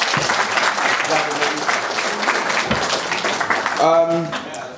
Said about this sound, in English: So I want to give you guys another round of applause because you guys have made me proud.